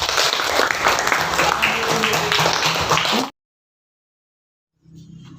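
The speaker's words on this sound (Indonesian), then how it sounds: "Tepuk tangan." Classroom audience bursts into lively applause for about three seconds before it cuts to silence, then a faint murmur of voices returns.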